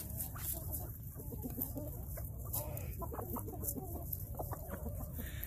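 Brahma chickens cluck softly outdoors in a backyard flock, giving a scattered run of short, low clucks over a quiet, steady background.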